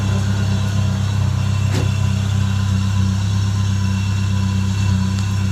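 BMW G20 car engine idling low and steady while the car is backed out, a constant close rumble with no clear revving.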